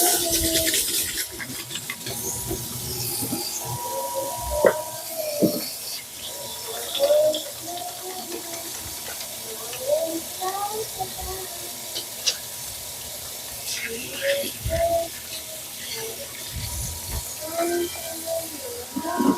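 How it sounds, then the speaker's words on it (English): Hands washed under a running kitchen tap: a steady, moderately quiet stream of water with small splashes and rubbing, continuing throughout alongside faint background noise. "I'm just going to wash my hands now."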